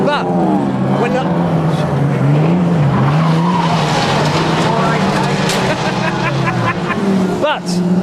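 Pre-1968 rear-wheel-drive cars in banger racing roar past with loud, sustained engines and squealing, skidding tires, then a sharp crunch near the end, while someone talks over the action.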